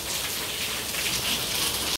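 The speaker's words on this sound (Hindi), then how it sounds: "इतनी तेज बारिश में भीगते हुए, ठंडा ठंडा मौसम" Heavy rain pouring down steadily during cold weather on a hill route in Mussoorie, a dense, loud, unbroken hiss of drops striking surfaces nearby with no voices.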